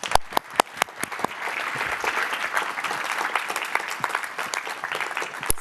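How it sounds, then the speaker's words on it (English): An audience at a conference talk on Python community history breaks into warm applause, starting with a few sharp individual claps and swelling into a steady, moderately sized round of clapping. "let's give a round of applause for all of these women and non-binary people"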